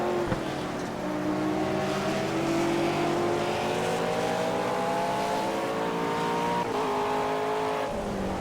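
A BMW GT3 race car engine in Project CARS drones and revs steadily as it holds speed, a loud, close, continuous whine climbing slowly in pitch, with a brief shift near the end.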